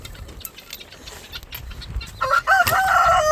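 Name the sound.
chickens clucking and rooster crowing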